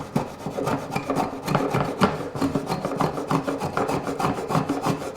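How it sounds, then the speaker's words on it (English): A small edge plane trims a cured epoxy edge on wood, producing a fast, rhythmic series of close rasping, scraping strokes that continue steadily throughout. "get a little edge plane. Oh, now. Because with that, you see, you can take off that little edge there."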